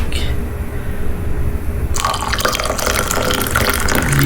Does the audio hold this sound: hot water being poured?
yes